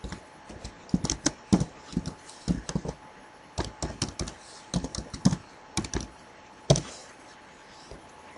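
Typing on a computer keyboard in quick, irregular bursts of sharp key clicks with short pauses, close and fairly quiet, no voices.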